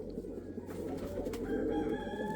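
Pigeons cooing softly while being handled, low murmuring coos close by with some rustling movement.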